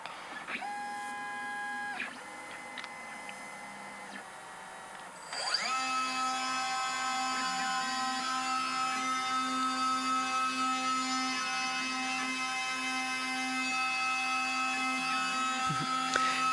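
A CNC mill cuts traces into thin Pyralux flex circuit material with a steady, high spindle whine and layered machine tones. The pitch shifts and grows louder about five seconds in, then holds a constant drone until the end, with no talking.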